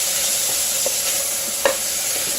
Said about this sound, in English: Something about that sizzle.